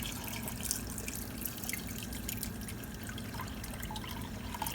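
Water runs from a tap into a pot of chickpeas soaked with baking soda, a soft steady trickle and splash with scattered drips, quiet and close with no talking.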